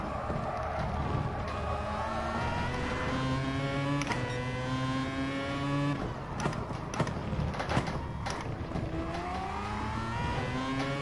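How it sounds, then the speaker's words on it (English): Subaru EJ20 boxer-engined Group 1 race car in GT Sport, its steady engine note rising and falling through gear changes, loud and continuous with no talk. "No, that isn't a rotary. It's a boxer engine. It's a Subaru."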